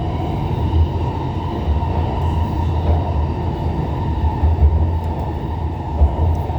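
A Guangzhou Metro Line 8 train runs between Kecun and Wanshengwei, with a steady loud rumble and rattle of the carriage heard from onboard throughout.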